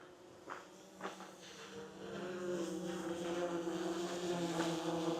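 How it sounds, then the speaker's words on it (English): A close, steady buzzing whine of drone propellers grows a little louder and holds, with a few faint thumps early on. "Now I'm really close to the drone."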